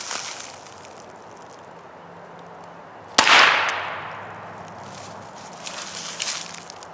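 A single sharp shot from a Ruger SR22 pistol cracks loudly at close range, then fades amid quiet outdoor ambience.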